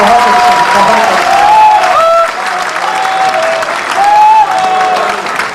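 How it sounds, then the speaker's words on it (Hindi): An audience at a live stage show bursts into loud, sustained applause, dense clapping close up with a melodic tone running underneath, swelling and dipping slightly over several seconds. "दोस्तों एक बार जोरदार तालियां हो जाए"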